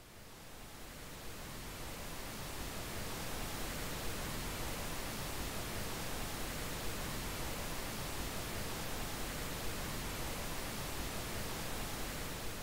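Steady pink noise from a loudspeaker as part of an audio artwork, a dense even hiss that fades in over the first seconds and then holds at a constant level, loud and alone.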